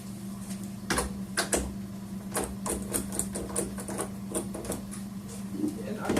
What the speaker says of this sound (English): I'm just going to kind of screw them in